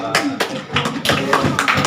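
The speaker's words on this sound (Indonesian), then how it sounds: "beri tepuk tangan untuk kelompok 2" A classroom group of student teachers claps for a student group after a running exercise, a scattered burst of applause with irregular hand claps close by, some voices mixed in.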